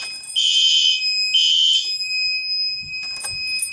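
A smoke detector's fire alarm sounds loudly and nearby in two long, piercing electronic beeps, then cuts off, followed by faint clicks and handling noises.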